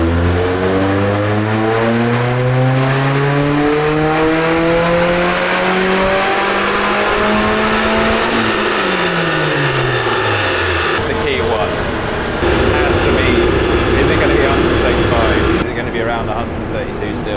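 Modified project car on a rolling road dyno, engine revving hard and loud with rising pitch, holding near the top before dropping off and settling, with a voice talking over the roar.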